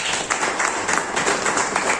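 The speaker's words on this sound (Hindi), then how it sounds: "जिसने भी मुझे बिजनेस समझाया है वो मितेश मेहता जी के लिए जोरदार तालियां चाहिए" A seated audience at a business talk breaks into brief, steady applause, a dense mass of clapping at moderate volume with no pause.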